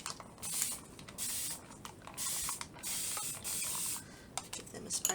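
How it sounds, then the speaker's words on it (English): Repeated bursts of water spray from a hand spray bottle misting metal stencils, several short hissing pumps spaced about a second apart, close and fairly loud with faint handling sounds between. "Give them a spray with water"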